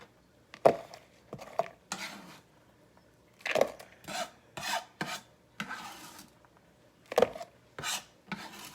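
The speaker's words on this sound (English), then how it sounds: "is just chopping everything up" Knife chopping fresh ingredients for fish ceviche on a cutting board, a series of sharp irregular strokes in short bursts with pauses, close and fairly quiet, with no talking.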